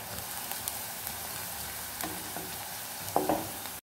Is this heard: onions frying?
yes